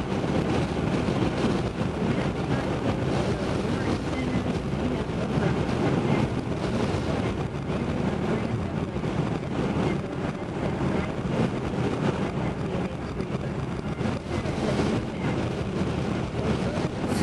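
A car drives along with constant, loud wind buffeting and road rumble filling the cabin, a steady broadband roar with no voices.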